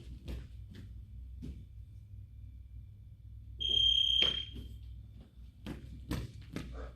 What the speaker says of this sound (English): So I'm going to start the timer.